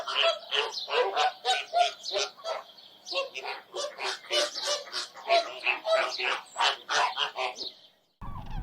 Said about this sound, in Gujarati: દેશ વિદેશના પંખીઓને જોઈને, એમના કલરવને સાંભળીને